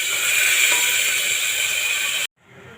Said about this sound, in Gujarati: હવે આપણે રાઈસને નાખી દઈશું।